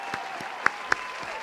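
A few sparse, isolated hand claps sound in a small studio setting during a podcast conversation, two sharper claps standing out among softer ones over a quiet room.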